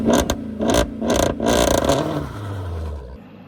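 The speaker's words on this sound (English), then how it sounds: "Hellcat learns to launch." A Dodge Hellcat launches with a few sharp, loud engine revs. The engine then settles into a lower, fading drone, and no voices are heard.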